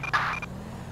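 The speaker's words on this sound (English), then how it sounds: "And honking at someone that's in a crosswalk when they have the right-of-way." Car horn honking in GTA V with the LSPDFR police mod: one short, bright, steady honk of about a third of a second, close and fairly loud, then quiet traffic ambience.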